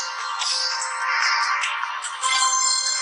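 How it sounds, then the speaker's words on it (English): A mobile phone ringtone rings on for about three seconds, a bright, tuneful electronic loop with rising and falling notes, close and steady, no voices over it, during a session of a mobile card-duel game. "Again with my ringtone!"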